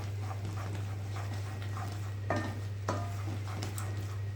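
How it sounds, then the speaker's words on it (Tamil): Mysore pak mixture of ghee and oil stirred in a pan, heard as soft scraping and tapping strokes at a steady rhythm, with a couple of sharper metallic clinks over a constant low electrical hum. "நெய்யும் எண்ணெய் கண்டமாக எல்லாம் மூணும் சேர்ந்து நல்லா மிக்ஸ் ஆகணும் நல்லா கைவிடாமல் கிண்டிக்கிட்டே இருக்கணும்"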